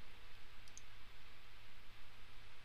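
A computer mouse clicks during CAD drawing work, a brief pair of light clicks heard faintly over steady background hiss, with no talking.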